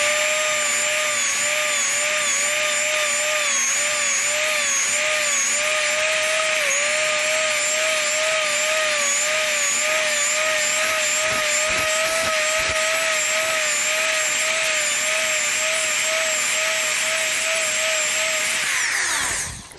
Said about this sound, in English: So we've got the die grinder here.